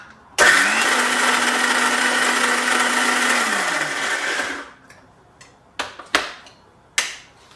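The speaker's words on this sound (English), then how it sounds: "We blend it together to make it a chutney." A blender whirs loudly for about four seconds while blending aubergine, coconut, coriander and tamarind pulp into a chutney, then winds down, followed by a few sharp knocks and clatters.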